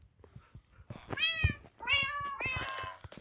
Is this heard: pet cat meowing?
yes